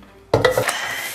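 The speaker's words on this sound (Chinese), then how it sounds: "我给它抖一下锅，" A small cooking pot holding braised beef bones and whole spices is shaken once, giving a sharp metallic clatter followed by a few quick rattling knocks, close and loud, then fading into quiet.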